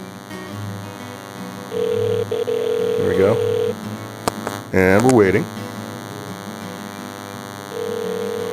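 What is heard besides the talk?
phone call dialing, heard through a handset held to the mic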